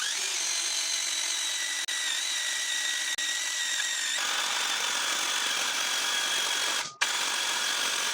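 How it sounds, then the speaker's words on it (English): A power drill boring holes through the steel frame of a Land Cruiser during a rebuild: a steady, close, high-pitched whine runs throughout, its tone dropping about halfway through, with a brief clunk near the end. "I got these holes drilled."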